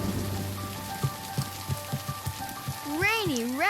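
Cartoon rain pattering down steadily under background music, with a voice speaking and a swooping whistle-like effect near the end.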